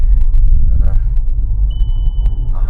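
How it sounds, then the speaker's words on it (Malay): Adaptive cruise control activation chime in an X70 car: one clear, sustained electronic beep of just under a second, heard over steady low road rumble inside the cabin. "Makna tu bunyi tadi tu bunyi ACC dah on."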